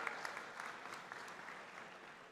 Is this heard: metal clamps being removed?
no